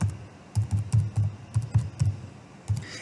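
Keys clatter on a computer keyboard as a search term is typed, about a dozen crisp close taps in uneven bursts and short pauses over a quiet background.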